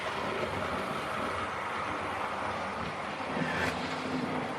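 A Hornby GWR Grange model locomotive runs steadily along its track, giving a continuous close rumbling whir with a faint rhythmic clatter and no voices.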